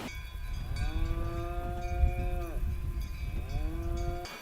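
Limousin cows on a French livestock farm low in long drawn-out moos, two rising calls in succession over a rumbling outdoor background, fairly close and clear.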